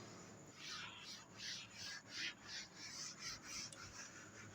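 Rhythmic rubbing strokes of an eraser wiping writing off a classroom board during a physics lecture, faint and repeated about once per half second, with no talk.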